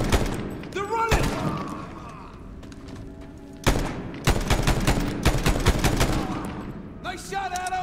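Rapid bursts of automatic gunfire and single sharp shots in a Medal of Honor (2010) firefight, loud and close, clustered in volleys with brief pauses and shouted voices mixed in.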